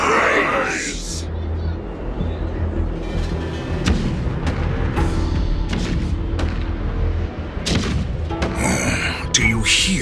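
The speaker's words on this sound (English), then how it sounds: "Do you hear that? The rumble of the cannons." Cannon fire rumbles through a battle scene in the video game Honkai: Star Rail, heavy booms and thuds rolling under a low, continuous roar, with sharp blasts standing out near the start and end.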